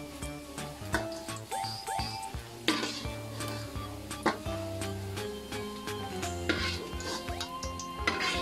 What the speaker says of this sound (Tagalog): igilisa naman yung mga sibuyas, bawang, payong atay